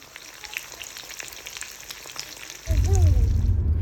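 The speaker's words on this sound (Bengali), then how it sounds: "ভাবলাম কিছু একটু ভাজাভাজি করি" Snacks frying in a pan at home start mid-way, a sudden close sizzle and crackle with a low bubbling rumble that follows a quieter stretch of faint clinks and room noise.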